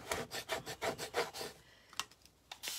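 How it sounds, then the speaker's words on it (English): A paste scraper drags paste across a chalkboard surface in about eight quick, rhythmic rasping strokes, close and crisp, followed by a few isolated scrapes after a short pause. "And scrape the paste."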